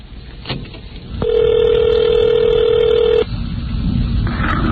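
A telephone rings at the start of a prank phone call, first a short click and then one long, loud electronic ring tone, followed by quieter line noise.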